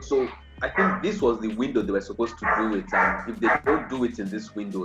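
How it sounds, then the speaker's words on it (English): A neighbor's dog barks repeatedly in the background, sharp yips and barks breaking through while someone talks continuously over it. "I really apologize for the noise coming from my neighbor's dog"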